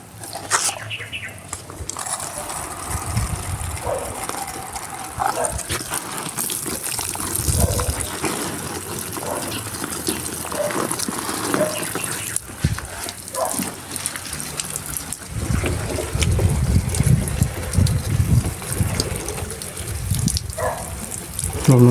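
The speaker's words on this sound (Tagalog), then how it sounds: "Mahina yung tubig." A weak flow of water used for watering plants at a small house, a low gushing and splashing stream that rises and falls over steady background noise, louder toward the end.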